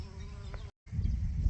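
Bees buzzing around flowers at a beekeeping farm, a continuous close insect drone broken by a brief silent gap, with no talk.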